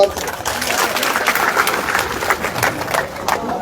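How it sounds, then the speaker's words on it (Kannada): Loud, sustained applause from a large outdoor crowd at a farmers' protest rally in Belagavi district, dense, continuous clapping close to the microphone with voices mixed in. "ಜೋರಾಗಿ ಚಪ್ಪಾಳೆ"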